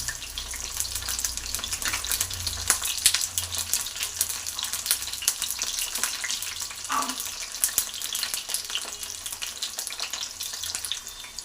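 Eggplant frying in hot oil, a dense, busy crackle and sizzle with sharp popping bursts running steadily throughout, close and fairly loud.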